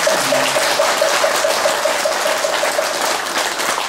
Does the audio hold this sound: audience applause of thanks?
yes